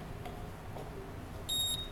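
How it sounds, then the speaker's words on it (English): A short electronic beep near the end, high and clear, following a quiet mechanical hum of a spinning wheel balancer. "Spin it till it beeps."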